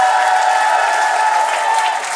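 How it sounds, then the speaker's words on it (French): A French television studio audience applauding on a variety show set, dense, loud continuous clapping filling the brief moment without any voices over it. "On vous applaudit"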